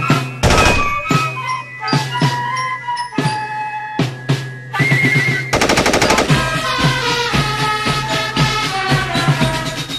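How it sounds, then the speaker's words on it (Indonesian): Rapid bursts of automatic gunfire from a Madsen light machine gun, several short strings then a longer sustained burst, loud and close with sharp ringing echoes between shots. "senapan mesin ringan atau SMR Madsen"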